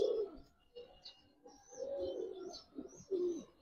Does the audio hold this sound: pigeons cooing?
yes